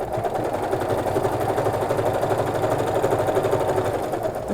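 A sewing machine stitches a straight seam on a sleepover bag, a fast, even mechanical chatter running close and steady, slowing slightly near the end as the handwheel is used.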